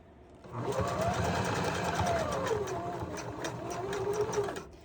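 A sewing machine stitches fabric, doing a back stitch on a panty, in one continuous run of about four seconds: a close, steady, rapid mechanical whir that starts and stops cleanly.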